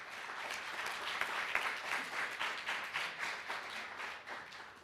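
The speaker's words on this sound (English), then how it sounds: "Let's applaud these wonderful achievements." Audience applause at a university state of the university address, a steady wash of many hands clapping for the full stretch at moderate distance, without speech over it.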